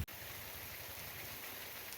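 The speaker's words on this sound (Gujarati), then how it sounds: "અત્યારે ઝીણી શરૂઆત થઈ છે વરસાદની" Light rain just beginning over a cotton field, a soft, even patter of drops heard faintly and continuously with no voices.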